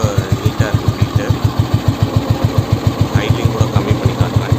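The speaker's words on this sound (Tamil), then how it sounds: "இன்ஜின் ரொம்ப ஸ்மூத்தாக இருக்குது. பீட்டும் பார்த்திங்கன்னா ரொம்ப நீட்டாக இருக்குது." Restored 1988 Royal Enfield Bullet motorcycle engine idling close by, a steady, even thump of regular beats about ten per second, loud and continuous throughout.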